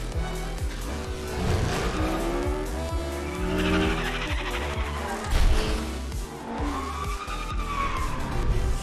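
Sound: Rocket League car racing in Fortnite video game

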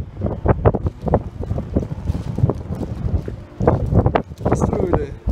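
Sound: strong wind

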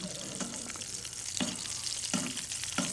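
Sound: duck breast sizzling in a pan

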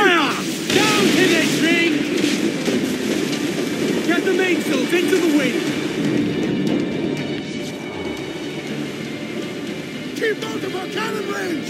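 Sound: ship cannon fire in Assassin's Creed IV Black Flag video game

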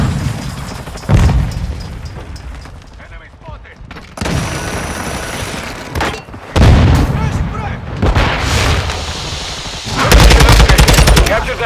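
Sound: Semtex grenade explosion and gunfire in Call of Duty video game

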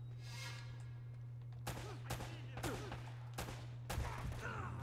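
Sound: mounted machine gun firing in Uncharted: Drake's Fortune video game

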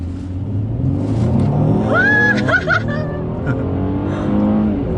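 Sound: car accelerating hard from standstill

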